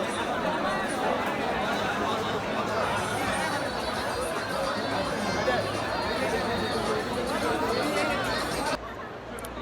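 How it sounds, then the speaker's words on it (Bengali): Dense, steady chatter of a large crowd moving among the stalls at the Dhaka trade fair, a continuous busy babble near and far with someone talking over it. "বহু মানুষ পিকচার তুলছে এবং প্রচুর ভিড় এখানেও"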